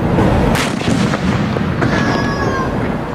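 A loud, sharp blast from a large illegal firecracker bursts out close by, followed by crackling debris and rumbling noise in the background, with no talking.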